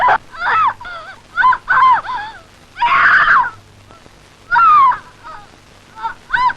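A woman screams in a string of loud, separate shrill cries with short pauses between them, close by and without other speech.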